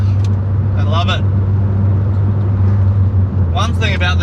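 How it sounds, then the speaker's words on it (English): Inside a Mazda FD RX-7 with a rotary engine, the engine keeps up a loud, steady low drone. Short bursts of excited voice break in over it now and then. "One thing about this car, it just keeps revving"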